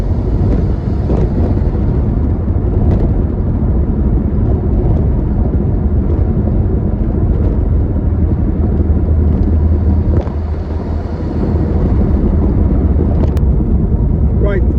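Steady loud rumble of a Ford Escort driving with a wonky front wheel bearing, continuous road and drivetrain drone throughout with no speech.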